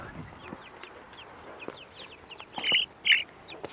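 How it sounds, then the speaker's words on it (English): Farm chickens raised in Australia cluck softly at close range, a scatter of short calls building to two louder squawks near the end. "These are other chickens that we're raising."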